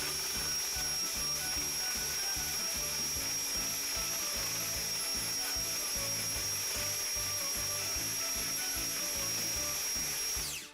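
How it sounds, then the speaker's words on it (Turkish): An electric mixer whisks four eggs until foamy for a homemade keto bread, a steady close motor whir running unbroken for about ten seconds with no talking. "Köpük köpük olana kadar çırpacağım daha sonra."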